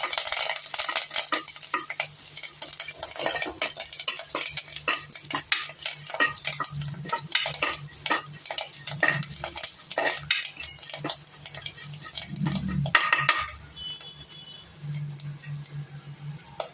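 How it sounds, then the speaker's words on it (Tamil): Cashews and other ingredients fry in a pan for a Rava Pongal, steady sizzling with frequent sharp clinks and scrapes of a stirring spoon against metal, fairly close and without speech. "முந்திரி, எல்லாத்தையும் வறுத்துக்கலாம்."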